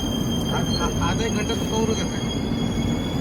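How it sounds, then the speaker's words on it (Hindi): Passenger superfast express train running into the outer signal area near Bhusaval station, a steady loud rumble of wheels and carriages with faint squeals and rattles throughout, heard from on board. "ट्रेन अब पहुंची है भुसावल आउटर पे"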